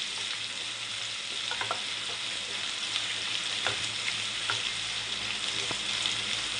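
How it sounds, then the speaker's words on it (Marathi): Pumpkin and chilli vegetable stir-frying in a pan, a steady close sizzle of frying with occasional clicks and scrapes of stirring throughout. "तर व्हायला पाहिजे दोन ते तीन मिनटं आपल्याला परतवायचं"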